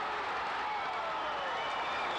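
Boxing crowd in upstate New York cheering and applauding after a Mike Tyson knockdown of the local favourite's opponent, a dense, steady roar of applause and cheers throughout.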